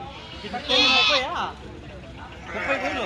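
Several sheep, including heavily pregnant ewes, bleat loudly and close by at a sheep market in Pileru, India, wavering calls in a busy setting with background chatter.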